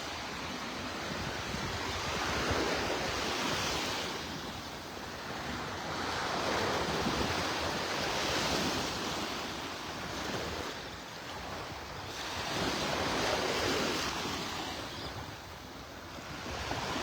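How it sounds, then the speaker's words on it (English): Steady northeast wind rushes across the beach at Delnor-Wiggins in North Naples, Florida, mixed with a continuous wash of surf that swells and eases in slow waves, with no voices. "That wind's coming out of the northeast this morning."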